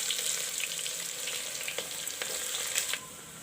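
Onions frying in hot oil with cumin seeds and dried red chilies for dal palak, giving a steady bright sizzle with small crackles and pops. The sizzle runs close and alone, then eases off at the end.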